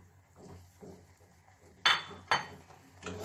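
A spoon clinks and scrapes against a bowl while flour is stirred into melted butter and sugar, giving soft rhythmic scraping strokes and two or three sharper metallic taps close by.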